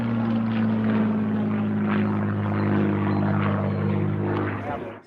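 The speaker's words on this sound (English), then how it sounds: "That is a Spitfire." A Spitfire aircraft's piston engine at the Duxford museum, a loud, steady droning roar with a strong low hum that holds evenly and fades slightly at the end.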